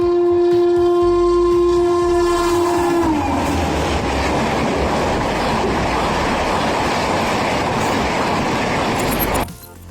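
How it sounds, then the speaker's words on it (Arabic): A train rushes past at high speed, loud and close, its horn blaring for the first few seconds before a roaring, rattling wash of wheels on rails that cuts off abruptly near the end. "لكن هيبقى مرعب لو شفت قطر ماشي بالسرعة دي"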